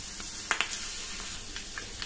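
Garlic, mustard seeds, cumin and dry chillies sizzle steadily in a tablespoon of hot oil with a few sharp pops and crackles, close and fairly quiet, with no talking.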